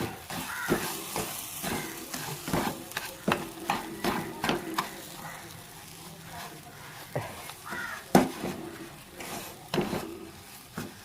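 Mashed banana and semolina mixture being stirred in a pan for rava unda, a series of irregular scraping and clacking strokes with a soft sizzle underneath, near and moderately loud, with occasional faint voice.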